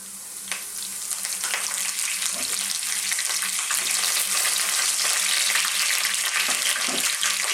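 Fresh curry leaves and mustard seeds hit hot oil for a carrot and lentil dal, bursting into a loud close sizzle that swells and then holds steady, with scattered crackles and pops.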